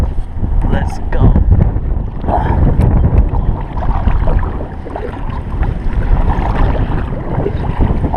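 Wind gusting around a kayak on open water during a fishing tournament, a steady broadband rush across the whole stretch with water sloshing against the hull, while a voice talks over it.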